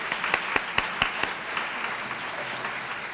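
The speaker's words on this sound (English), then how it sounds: "Let's give these ladies a big round of applause." An audience at a Beautillion ceremony applauds the committee ladies. A few sharp, distinct claps ring out at first over a continuous wash of clapping from a moderately distant crowd, with no voices.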